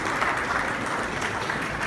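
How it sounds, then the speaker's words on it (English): An audience applauding a speaker at a conference event in Delhi, dense steady clapping throughout. "can we please give him a very, very warm round of applause, everybody"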